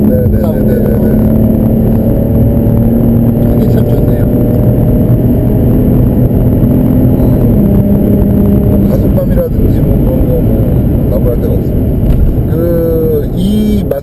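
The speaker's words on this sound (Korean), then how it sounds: "터보 엔진에서 이렇게 하이피치 사운드를 만들어내는 게" A Maserati Ghibli's turbo engine drones with a steady tonal whine while driving, heard from inside the cabin under continuous conversation, loud and close throughout.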